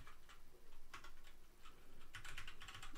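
Close-up typing on a computer keyboard, with quick irregular bursts of clicking keystrokes, some fast runs of taps and brief pauses, alone without speech.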